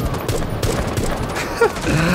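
Rapid gunfire bursts in the video game Rainbow Six Siege, a dense fusillade of shots crackling close and loud across the whole moment with faint voice underneath.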